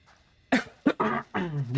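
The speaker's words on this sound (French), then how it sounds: "Désolé hein, pour la toux." A man gives two sharp, close coughs in quick succession, followed by rough, voiced throat sounds, while commenting on the horror game Little Hope.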